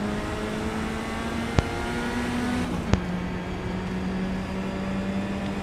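A race car in a racing video game drones with a steady, sustained engine note whose pitch dips as another car flies past, broken by two sharp clicks along the way.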